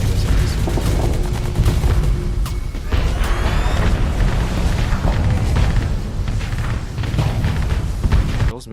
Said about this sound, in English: Those missiles actually hit, that was nice.